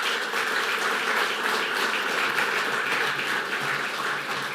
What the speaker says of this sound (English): May we have a round of applause for all of our outstanding male and female high school